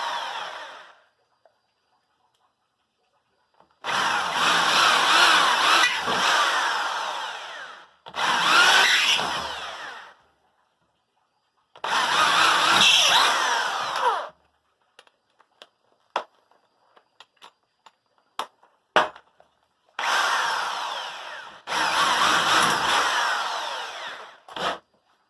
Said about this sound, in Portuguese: Agora a gente vai dar o último toque com a broca grande.